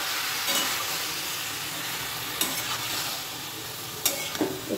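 About 300 grams of chicken keema stirred and frying in a pan, a steady soft sizzle with a few louder scraping stirs of the spoon, close and fairly quiet with no talk.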